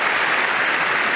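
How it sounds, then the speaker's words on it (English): Loud, dense applause from the Wimbledon crowd at a 2022 tennis match between Novak Djokovic and Kwon Soon-woo, a continuous wall of clapping with no break. "He deserves an applause"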